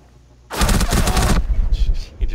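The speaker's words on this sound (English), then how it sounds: "He just shot me through." A loud, close burst of rapid automatic gunfire from Rainbow Six Siege rattles for nearly a second, followed by fainter scattered shots and clatter trailing off.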